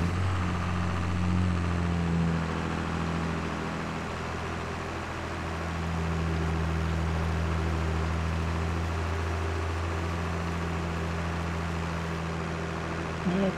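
A tractor engine in Farming Simulator 22 runs at a steady low idle, a continuous droning hum with a slight dip in level partway through, heard alone without talk.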